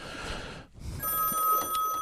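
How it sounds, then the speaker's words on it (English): A telephone rings on a live Christmas music broadcast, a short electronic ring tone that cuts in after a brief pause and rings steadily through the rest of the moment, close and clear. "We have a phone ringing on the line."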